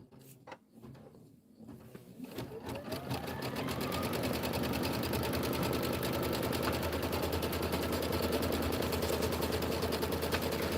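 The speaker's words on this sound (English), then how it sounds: "placement stitch for your batting" An embroidery sewing machine runs a placement stitch on quilt batting, starting up and settling into a steady, close, fast mechanical whirr that continues without a break.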